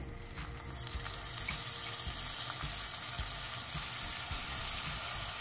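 Washed rice tossed with golden garlic sizzles in a hot pan, a constant close crackling hiss with occasional scraping stirs and no voices.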